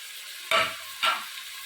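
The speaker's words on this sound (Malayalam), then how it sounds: "ഇനി ഇതെല്ലാം കൂടെ ഒന്ന് പച്ചമണം മാറുന്നതും വരെ ഒന്ന് വഴറ്റിയെടുക്കണം" Turmeric, coriander powder and garam masala sauté in a pan for a village-style chicken curry, with two quick scraping stirs rising over a faint, steady sizzle.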